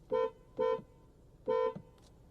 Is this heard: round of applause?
no